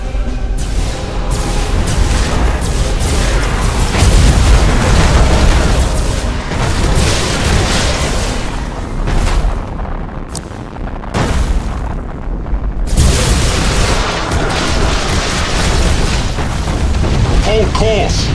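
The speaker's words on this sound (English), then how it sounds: "Tell them to detonate the mines. That explosion should clean our tails of these traitors." Mines detonating in a space battle in the video game Battlefleet Gothic Armada 2, a dense, continuous roar of booming explosions and rumbling blasts, loud and sustained with a few brief dips, voices mixed under the barrage.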